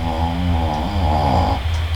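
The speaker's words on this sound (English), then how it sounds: "down here snoring up a storm" Pet dog snoring loudly at close range, a steady rumbling snore with rasping, harmonic-rich breaths filling the moment.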